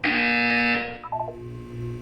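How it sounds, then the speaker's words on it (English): Electronic buzzer from the video game Portal 2, a loud steady harmonic tone held for most of a second, then cut off by a few short tonal blips and a faint low hum. "You will hear a buzzer."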